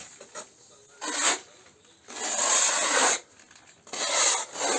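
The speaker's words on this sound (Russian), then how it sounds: "Берем обычный шпатель малярный." A painter's putty knife spreading adhesive across a fireplace surface for decorative plaster, with close, rasping scraping strokes in several long sweeps separated by brief pauses.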